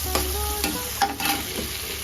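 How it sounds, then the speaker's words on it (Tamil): Ginger garlic paste sautéing in a pan for a Tamil-style chicken fry, a steady close sizzle punctuated by a few quick stirring scrapes, with no voices. "கொஞ்சம் இஞ்சி பூண்டு பேஸ்ட், ஏன்னா அதில் நிறைய போட்டு இருக்கிறோம், அதனால சும்மா கொஞ்சமாக கொஞ்சம் போட்டு வதக்கணும்"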